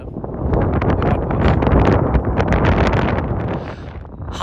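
Strong wind gusting at Duncansby Stacks on the north coast, a loud, continuous buffeting roar across the microphone that swells and eases without a break and with no voices.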